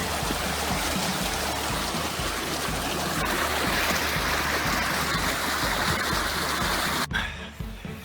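Rushing river water flows loud and close in a continuous broadband wash during a hiking crossing of a deep, rocky river, before the sound suddenly drops away near the end.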